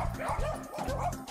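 A dog barks in quick, close bursts, with a few sharp woofs running together over about a second, loud and alone.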